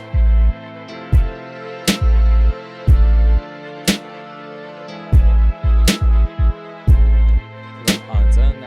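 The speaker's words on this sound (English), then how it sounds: "a quarter note ping pong delay" A musical sample runs through a quarter-note ping-pong delay, its short tonal hits and sharp percussive clicks repeating in an even rhythm and trailing off in echoes.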